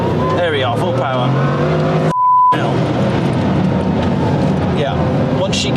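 A hypercar with carbon ceramic brakes accelerates at full power, its engine note climbing in a loud, rising roar that continues through the clip, with someone talking over it.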